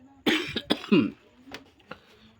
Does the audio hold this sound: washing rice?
no